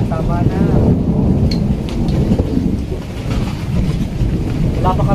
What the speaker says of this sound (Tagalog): Tama na ulan.